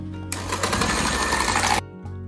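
Cake batter of eggs and vanilla essence for a malt cake is beaten, giving a close, steady, motorized whirring buzz for about a second and a half that then stops abruptly.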